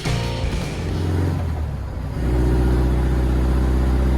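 A Volkswagen race car at the Bathurst Mount Panorama circuit drones past, its engine note wavering and then settling into a loud, steady buzzing pull with wind rush, no voices heard.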